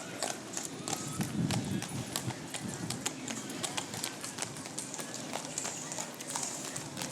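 Horses' hooves clip-clop steadily on pavement in an Independence Day parade, a brisk run of clear, close hoofbeats that keeps going under crowd chatter and nearby voices.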